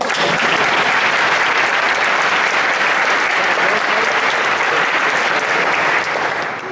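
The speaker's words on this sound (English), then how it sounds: "So would you please applaud Mrs. Cynthia Miller?" An audience at a Philosophical Society gathering gives sustained applause, dense clapping from many hands filling the room at full volume before tapering slightly at the end.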